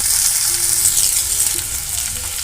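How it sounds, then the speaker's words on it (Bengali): Potato pieces sizzle in hot oil with a little salt and turmeric while being cooked for a Bengali posto bora curry, a loud, continuous crackling fry with faint stirring and no voices. "সামান্য একটু লবণ আর একটু হলুদ দিয়ে আমি আলুটাকে ভালো করে ভেজে নেব"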